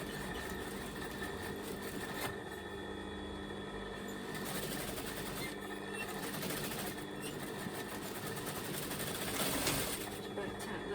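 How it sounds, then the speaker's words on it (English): Overlocker sewing machine stitching a satin pillowcase, a fast, steady mechanical whirr with regular stitching pulses close by at low volume, and brief pauses between runs. "as you're sewing, you're just slightly pulling the satin this way."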